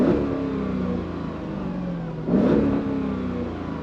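A Mercedes-Benz S55 AMG (W220) idles with a steady rumble, then takes a quick blip of revs that swells the engine note and settles back, heard up close with no talking.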